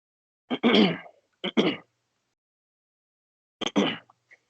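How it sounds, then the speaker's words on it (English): Several short bursts of throat clearing, a harsh pair, another, then a final rasp after a pause, close to the mic with silence between. "Clear my throat."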